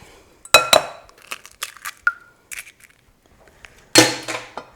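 An egg mixed into pumpkin pie filling in a bowl for mini pumpkin pies, heard as close, sharp clinks and knocks of a utensil against the bowl in irregular bursts, with quiet pauses between.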